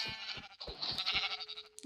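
Blocky Minecraft sheep bleat several times in quick succession, a series of short nasal cries with a game-like tone, clear and close with no talking over them.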